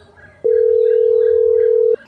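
A steady telephone dial tone sounds alone for about a second and a half while a call is being placed, clear and loud over a quiet background.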